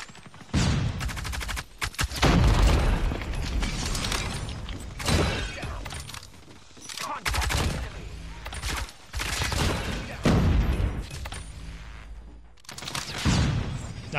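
Gunfire in the mobile shooter game COD Mobile, rapid bursts of automatic shots and heavy impacts in repeated loud clusters with short pauses between, dense and close.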